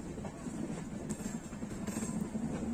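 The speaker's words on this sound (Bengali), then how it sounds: "ট্রেন আস্তে আস্তে ওপর দিকে উঠছে, আস্তে আস্তে স্লো হচ্ছে মাঝে মাঝে।" A train climbs slowly up a hill on the way to Araku. It gives a steady low rumble and drone, with faint rattling throughout and no voices.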